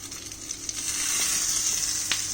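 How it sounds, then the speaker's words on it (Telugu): Chopped capsicum and tomato sizzle steadily in a hot pan on a stove as pizza topping, a continuous close hiss with a few faint clicks of stirring. "ఇప్పుడు మళ్ళీ స్టవ్ ఆన్ చేసుకుందాం. ఇందులో ఇందాక మనం టాపింగ్స్ కి కట్ చేసుకున్నాం కదా, క్యాప్సికమ్ అండ్ టొమాటో వేస్తున్నాను."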